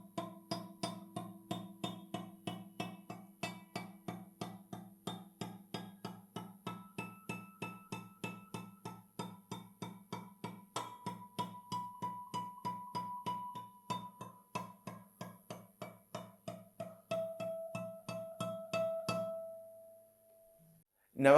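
Guitar natural harmonics sounded by picking a string while a finger slides along it: a long run of quiet, evenly spaced plucks, mostly muffled, with bell-like ringing tones at certain points, ending in one sustained ring.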